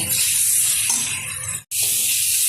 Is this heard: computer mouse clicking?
no